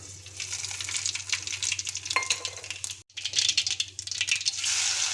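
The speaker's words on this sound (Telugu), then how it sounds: "ఆయిల్ వేడైందండి నేను జీలకర్రను ఆవాలు వేసుకుంటున్నాను" Cumin and mustard seeds hit hot oil for a village-style mango and moong dal curry, crackling and sizzling close by with rattling pan sounds, a brief silent cut midway, then spattering resumes, with no talk.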